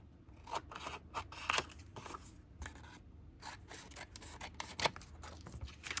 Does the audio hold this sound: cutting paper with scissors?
yes